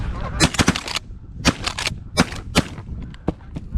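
A volley of shotgun blasts rings out during a goose and duck hunt over decoys. About eight sharp reports come in quick irregular bursts, loud and close, and faint honking from the geese sounds between the shots.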